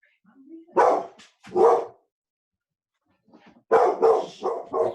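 A dog barks in two separate pairs of sharp, loud barks with a short silence between, near the microphone.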